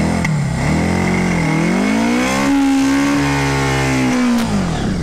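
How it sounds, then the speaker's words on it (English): Dual sport motorcycle engine with freshly rejetted carburetors revving up and holding a steady high idle, a loud, close, continuous droning growl that rises in pitch and then settles, with no talking. "But my bike is running a whole lot better."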